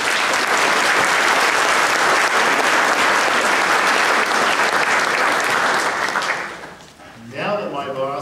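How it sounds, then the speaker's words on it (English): A faculty workshop audience gives a long, loud round of applause, dense clapping that runs steadily for about six seconds, fades, and then gives way to a voice speaking. "Let's give them all a round of applause."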